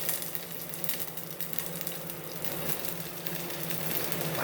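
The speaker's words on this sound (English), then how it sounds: "I will add my onions and the bacon and let that cook for a little bit" Chopped onions and bacon sizzle steadily in a small pot on the stove, a constant loud hiss and crackle with no voices.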